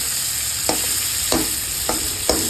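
Potatoes and chickpeas fry steadily in a pan, a constant hiss and sizzle broken by four scraping stir strokes at regular intervals, close and fairly loud with no talking.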